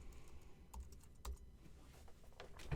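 Typing on a computer keyboard, a handful of sparse, quiet key taps spread irregularly over a few seconds, alone.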